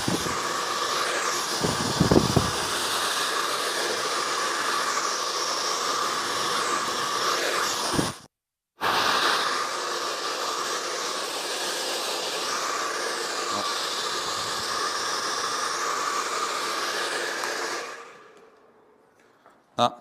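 Hair dryer blow-drying a curved fringe while it is pulled in the opposite direction and rolled into an S shape, a steady broadband airflow roar running nearly continuously, cut off briefly once and then switched off near the end.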